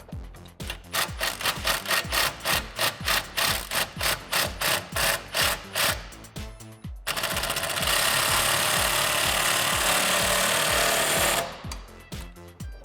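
A wrench tightens a nut onto a rear shock bolt of a 1994-2004 Ford Mustang during an Eibach suspension install: a run of close, rhythmic ratcheting strokes gives way to a steady, harsher grinding buzz before stopping.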